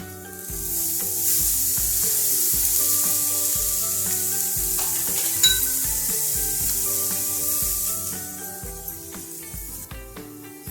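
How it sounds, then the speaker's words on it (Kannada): Cabbage drops into hot oil in a pan and sizzles loudly and steadily while it is stirred, with no talking. "ನೋಡಿ, ಈಗ ನಾನು ಗೋಬಿ ಹಾಕ್ತಾ ಇದ್ದೀನಿ."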